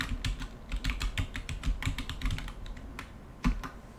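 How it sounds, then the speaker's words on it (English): Password being typed on a computer keyboard: a rapid, steady run of crisp close keystrokes slowing near the end, with one firmer final press and no talking. "and type the password again"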